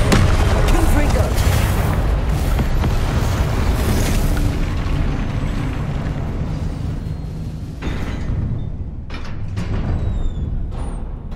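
Confringo explosive spell cast in the Hogwarts Legacy video game, a loud rumbling blast with booming fire that roars continuously and slowly fades, with further bursts near the end.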